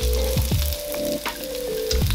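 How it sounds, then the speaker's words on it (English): Onions and garlic stir-frying in hot oil in a wok, a loud continuous sizzle up close with a few quick scraping stirs and a faint tonal hum underneath, no voices. "stir fry them till they're nice and soft and fragrant"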